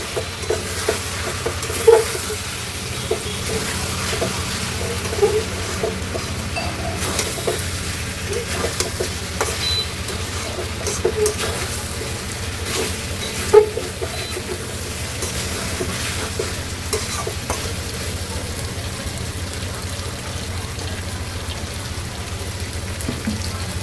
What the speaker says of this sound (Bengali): দেখেন মাংসটা কষাতে কষাতে কত সুন্দর তেল উঠে যাচ্ছে।